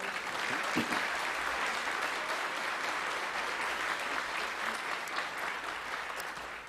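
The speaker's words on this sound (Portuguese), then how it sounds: "Você pode aplaudir ao Senhor?" A church congregation applauds during a celebration worship service, a dense, steady wash of many hands clapping that holds at full strength for several seconds with no voices over it.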